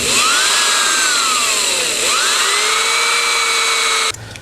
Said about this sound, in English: That's where I'm going to drill my hole.